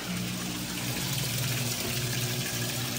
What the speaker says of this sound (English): It locked and it's draining, going into rinse.